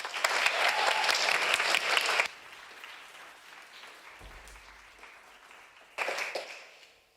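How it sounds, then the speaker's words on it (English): Audience applause at a university percussion concert: a dense, steady burst of clapping for about two seconds, then a quiet stretch of faint room noise and scattered claps before applause surges briefly again near the end. "Another round of applause for Bianca"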